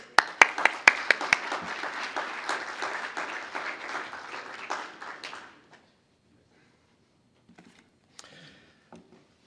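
An audience applauds to welcome a guest speaker, Professor Michael John Perry: several seconds of dense clapping with a few loud early claps, fading out and giving way to near silence with faint stray sounds.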